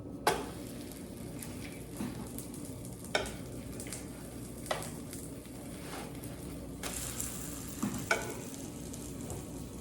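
A pancake cooks gently in butter in a pan with a soft, steady sizzle, punctuated every couple of seconds by light taps and scrapes of a utensil against the pan.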